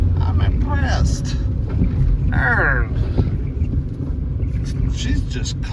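Interior of a 2009 Pontiac G5 manual coupe on the move, a low rumbling engine and road drone with wind noise, while people talk over it throughout.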